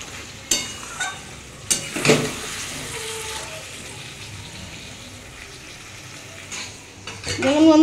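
Mutton sautéing in hot oil in a pan, with a steady sizzle under repeated scraping and clinks of a spoon stirring against the metal, close by.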